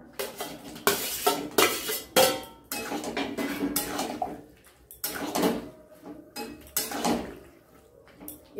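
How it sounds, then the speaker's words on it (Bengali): Fried chicken pakoras tipped into chilli chicken sauce in a pan, with repeated loud clatters and scrapes of a spoon against the pan in irregular bursts, close up and with no talk. "এবার পকোড়াগুলো দিয়ে দেব।"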